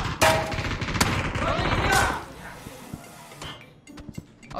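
Rapid gunfire bursts crackle through a PUBG match in the first two seconds, followed by quieter scattered shots and clicks, with players talking over the action.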